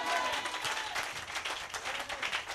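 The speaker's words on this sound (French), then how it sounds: "Donnez une main d'acclamation au Seigneur" A church congregation at a Sunday service applauds in a lively, dense round of clapping, moderately loud with a roomy feel, while a voice faintly carries over it.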